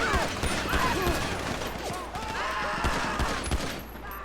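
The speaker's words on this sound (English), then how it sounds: "it did go to a shootout stage" Gunfire during a police shootout in GTA 5 on PC, repeated sharp shots in irregular bursts over game ambience, with someone talking faintly underneath.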